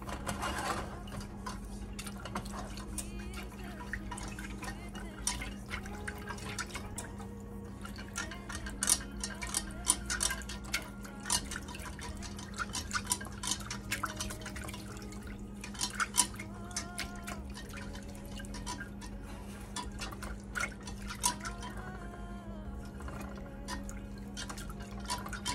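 A whisk scrapes and ticks against a pan as a small amount of cornstarch sauce cooks over medium heat, giving a quiet, fairly steady run of light metallic taps and clicks with a faint low hum beneath.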